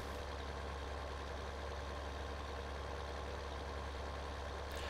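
A New Holland tractor engine in the video game Farming Simulator 2013 runs at a steady, unbroken drone, a constant low rumble with no voices over it.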